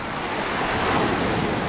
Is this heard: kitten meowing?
no